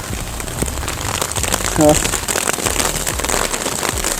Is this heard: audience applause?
no